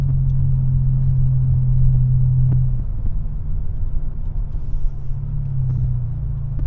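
Congested road traffic with buses in Nova, heard from inside a moving vehicle: a constant deep engine rumble with a slight change in pitch partway through, and no voices.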